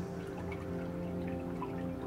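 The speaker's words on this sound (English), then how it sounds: "Focus only on the sound of this water" A river stream flows in a steady, continuous wash of moving water, even and close, with no voices.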